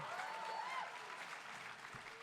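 A Comic Con panel audience claps for a newly unveiled comic book cover, a faint, distant, even spread of applause running throughout.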